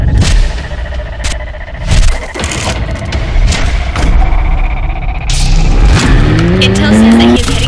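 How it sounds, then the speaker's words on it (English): A McLaren car in a video game drives with engine roar and tire noise, and a rising engine rev near the end, under bursts of other game sounds. "You chose a McLaren."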